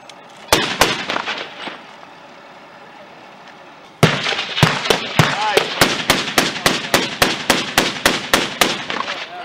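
Rapid bursts of gunfire from a military operation in Afghanistan, a few loose shots early on, then after a pause a steady, evenly spaced string of loud cracking reports, with voices heard faintly under the firing.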